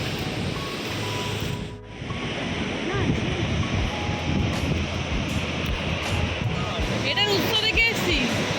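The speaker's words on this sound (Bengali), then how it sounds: "আর তার সাথে হাওয়া বইছে, মারাত্মক হাওয়া।" Strong wind gusts at Bhimkund waterfalls, a loud, constant roaring rush that buffets the microphone, with faint voices underneath.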